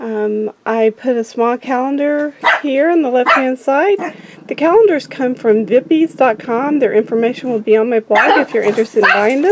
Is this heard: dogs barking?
yes